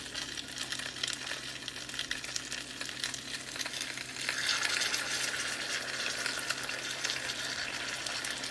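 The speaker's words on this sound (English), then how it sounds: "it's going to start sizzling my pork chop" A pork chop sizzling in a pan as homemade BBQ sauce is poured on, a steady crackling fry that swells louder midway as the sauce hits, close and continuous with a low background hum.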